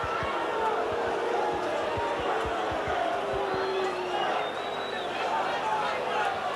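Rugby league crowd at a Leeds versus Leigh match reacting to a referee's decision, a sustained loud roar and murmur of spectators filling the whole stretch, with scattered low thumps beneath.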